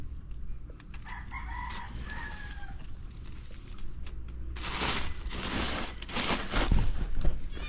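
Backyard pet chickens cluck softly at a distance, then a rooster lets out a loud, drawn-out crow in the second half, with steady low background noise throughout.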